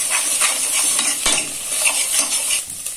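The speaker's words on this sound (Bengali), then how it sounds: "ডিমগুলো এখন ভালোভাবে ভেজে নেব।" Eggs frying in a little white oil in a hot wok, a continuous bright sizzle with repeated scraping stirs and one sharp clink of utensil on metal, with no talking.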